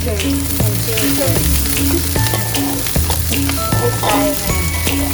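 Red onions, garlic and ginger sauté in a hot pan, crackling and sizzling steadily while a utensil scrapes and knocks against the pan in repeated stirring strokes, close up with no voices.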